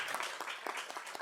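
An audience at a regular government session claps in a short, faint burst of applause that sounds distant and quiet, with no voices over it.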